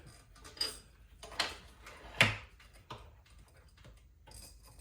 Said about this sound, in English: I'll slide this one in